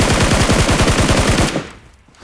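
Rapid video game gunfire lays down cover, a loud burst of evenly spaced automatic shots for about a second and a half before cutting off into near silence.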